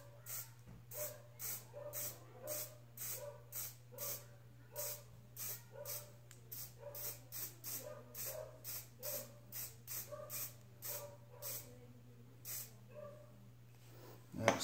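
Hairspray hisses in repeated short bursts onto foam for an HO scale model tree, about a dozen quick puffs in a steady rhythm, close and fairly quiet over a constant low hum.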